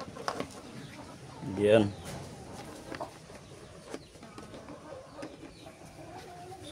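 A free-range hen laying eggs gives a single short, faint cluck against a quiet farmyard background, with a person talking nearby.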